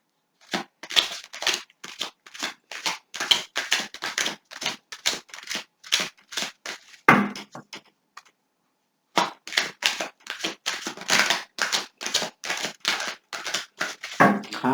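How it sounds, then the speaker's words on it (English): Tarot cards are shuffled by hand in quick repeated riffling bursts with a crisp, papery clatter; the even rhythm breaks off for a short pause and then resumes, close and clear. "Cards aren't wanting to shuffle out."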